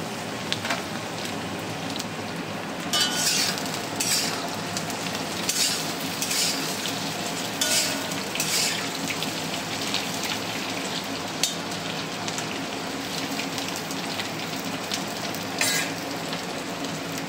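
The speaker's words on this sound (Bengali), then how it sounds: "এদিকে হচ্ছে পটল ভাজা" Pointed gourd (potol) frying in oil, a dense steady sizzle with crackling spatter heard close and continuous throughout, broken now and then by brighter bursts of popping.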